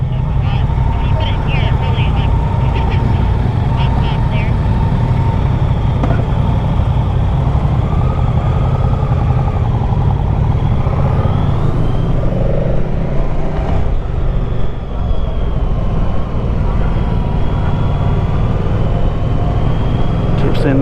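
A 2024 Moto Guzzi Stelvio motorcycle engine runs steadily and loud at close range, with a continuous low rumble throughout and wind noise from riding, while a rider talks over it.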